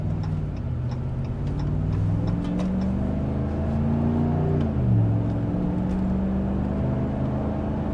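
A 2019–2024 Ram 1500 pickup on new 33-inch all-terrain tires accelerating, its engine note rising and then dropping back as it opens up to about 3,000 RPM, heard steadily from inside the cab with no talking.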